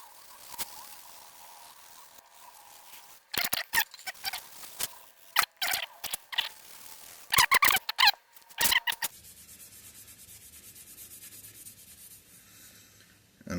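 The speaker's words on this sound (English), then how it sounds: "Steel wool." Steel wool is rubbed along a sword blade in short scratchy bursts, clustered and irregular, close to the microphone, with quiet stretches between.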